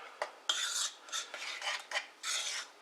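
Pebernødder dough ingredients being mixed in a bowl, a series of close, rasping scrapes and rubs in uneven strokes, each lasting a fraction of a second with short pauses between.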